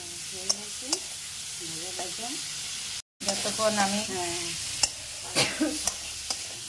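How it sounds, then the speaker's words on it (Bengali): Potatoes being stirred and fried in a pan for a potato and pointed gourd curry, giving a steady sizzle with scraping stirs and a few sharp knocks, plus some faint vocal sounds in the background. "মা এদিকে আলুগুলো মিশিয়ে দিয়েছে, আর ওগুলো মিশানো করে একটু ভাজা করছে"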